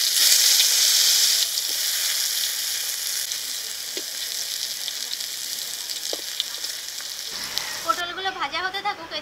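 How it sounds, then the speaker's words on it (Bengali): Pointed gourd (potol) frying in mustard oil in a wok gives a steady, close hissing sizzle, with a few soft taps and a brief voice near the end. "প্রথমে পটলগুলো ভেজে নেব, তার জন্য কড়াইতে সরিষার তেল দিয়ে দেব।"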